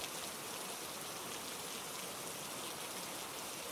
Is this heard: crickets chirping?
no